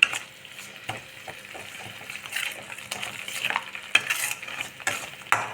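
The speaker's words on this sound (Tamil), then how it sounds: "கொஞ்ச நேரம் நல்லா வதங்கட்டும்" Tomatoes sautéing in oil in a hot pan: steady stirring and scraping with a continuous sizzle, plus occasional clinks of a utensil against metal, close by.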